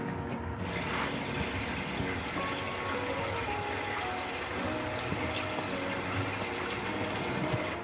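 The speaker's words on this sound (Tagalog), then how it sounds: "Pwede nating ilagay yung ating shrimp broth, yung ating pinakuluan na ulo ng hipon." Shrimp broth made from boiled shrimp heads is poured into a cooking pot, producing a continuous splashing, gurgling pour at moderate volume.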